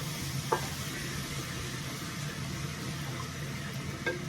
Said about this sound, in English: at this point we're gonna pour in our milk, coconut milk, like so